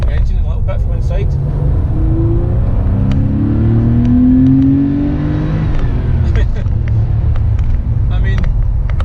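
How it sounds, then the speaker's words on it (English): An air-cooled Porsche 911 engine growls from inside the cabin while driving, a loud raucous drone that climbs in pitch as it accelerates and then settles, with someone talking over it. "That raucous air-cooled noise"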